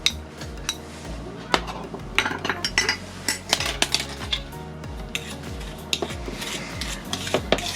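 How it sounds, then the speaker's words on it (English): Butter and sugar stirred together in a bowl with a metal utensil, making a run of irregular scraping clinks and knocks against the bowl, close and fairly loud, with no talk. "Right, mix these in together and we want to make it till it's soft and creamy."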